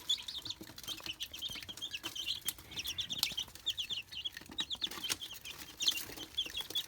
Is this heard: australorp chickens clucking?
yes